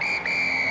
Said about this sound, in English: There is the whistle from Marcus Plale.